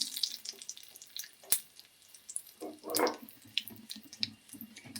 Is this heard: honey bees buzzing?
no